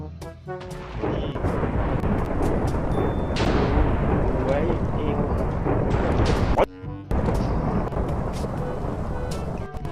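An explosion magic spell going off in a modded Minecraft game: loud, booming, rumbling blasts that fill nearly the whole ten seconds, with one brief drop-out midway before the roar resumes.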